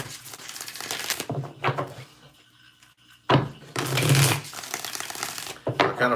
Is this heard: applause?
no